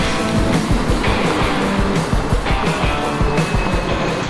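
Tesla electric car accelerating hard from 0 to 100 km/h, heard from inside as a loud, steady broadband rush of road and wind noise with low thumps, continuous for several seconds and with no talking.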